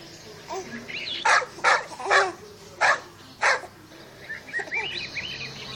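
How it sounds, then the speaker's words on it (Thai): A small dog barks five times in quick succession, loud and close. Chirpy bird-like calls sound just before and after the barks. "เจ้าสุนัขน้อยนี่เอง"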